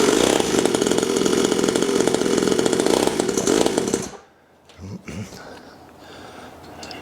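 A Chinese dirt bike engine rasps loudly at close range with a buzzy, revving exhaust note for about four seconds, then cuts out, leaving faint rustling.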